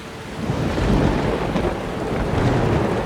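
Steady rain with rolling thunder in the Skyrim video game world, a loud, continuous downpour rumbling with deep thunder and light wind, no voices.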